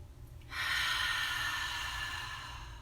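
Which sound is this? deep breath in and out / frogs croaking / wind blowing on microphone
deep breath in and out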